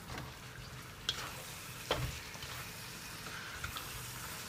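Pasta with small button mushrooms, chicken and soy sauce being stirred in a frying pan, giving a faint steady sizzle with a few soft scraping clicks of the utensil, fairly quiet throughout.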